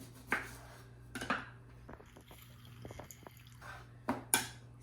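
Fresh lime squeezed by hand for salsa criolla in a home kitchen, giving a few short wet squishes and drips spread out over a low steady hum.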